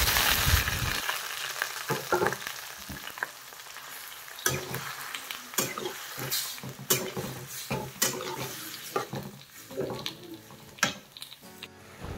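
Cucumber frying in a pan with black cumin, salt and green chillies, a soft sizzle broken by scattered scrapes and clatters of stirring.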